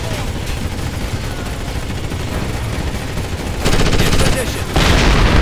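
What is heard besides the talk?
incoming gunfire in video game Ghost Recon Advanced Warfighter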